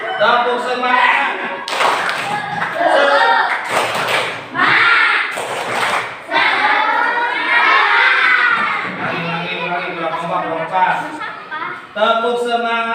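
A group at a teachers' positive-culture workshop in Cirebon performs a spirit clap, tepuk semangat, with loud rhythmic bursts of clapping mixed with lively group chanting and shouting, close and energetic throughout.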